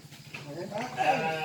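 A young lamb on a small livestock farm gives a brief, thin bleat that rises near the end, faint and somewhat distant against quiet farmyard background noise.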